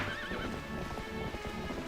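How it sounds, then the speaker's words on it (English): Hoofbeats of a horse galloping in The Legend of Zelda: Twilight Princess, a steady clip-clop rhythm with a whinny near the start, loud and close under game music, with no talking. "getting used to riding the horse is a little bit more tricky than I remember"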